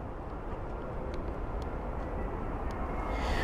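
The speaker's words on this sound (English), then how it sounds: "And here is the BA 787-10 Dreamliner" A British Airways Boeing 787-10 Dreamliner coming in to land at London Heathrow makes a continuous low jet rumble that swells slightly toward the end, heard alone at moderate, fairly distant level.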